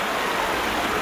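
Water rushes and churns steadily for about a second as a troll tumbles off a bridge into a river, a sustained splashing wash with no voices over it.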